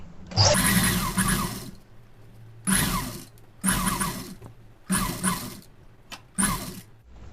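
A sewing machine stitches a pa-neck blouse lining in five loud, close bursts of rapid mechanical whirring, with short quiet pauses between runs.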